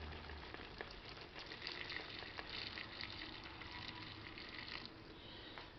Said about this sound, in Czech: teď přileju ještě trochu té vody